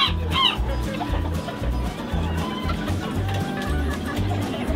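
Fighting roosters at a breeding farm cluck in short repeated bursts, close and fairly loud, with faint background noise and no clear talk.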